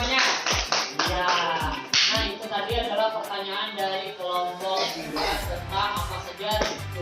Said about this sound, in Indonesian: Dia tepuk tangan semuanya.